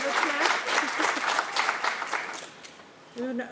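An audience claps for an intern at a meeting, a steady round of applause that fades out, followed by a voice as it ends.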